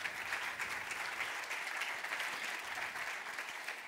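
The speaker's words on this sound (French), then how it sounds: "Applaudissements." Audience applause at a Cegid Retail Live Store presentation, steady sustained clapping from a crowd, moderately distant and even throughout.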